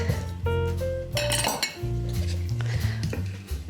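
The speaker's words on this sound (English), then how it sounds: "So I'm just going to scrape this onto the counter." Pastry dough is scraped out of a food processor bowl onto a counter, giving continuous close clinks, scrapes and rattles of the blade and bowl with no talking.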